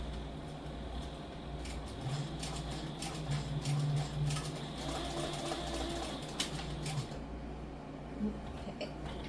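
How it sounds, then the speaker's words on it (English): Sewing machine stitching across flat pieces of a leather satchel, a steady mechanical whir with a low motor drone and faster stitching bursts, close and continuous without talk. "So I'm just going to sew across there."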